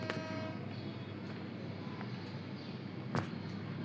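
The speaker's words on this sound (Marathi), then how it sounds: "हा आहे कृष्णगिरी स्टेशन आणि आता ट्रेन चालू होत आहे." The Vanrani toy train pulls away from Krishnagiri station in Sanjay Gandhi National Park, Borivali, with a steady close rumble. A brief tone sounds at the start, and a sharp clank comes near the end.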